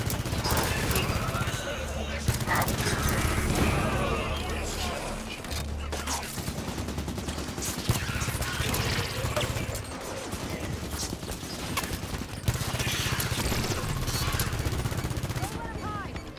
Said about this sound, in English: If we turn these back on, they'll make quick work. Turrets on and firing.